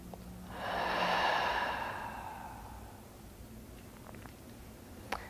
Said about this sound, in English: I like to breathe out through my mouth because I find that more relaxing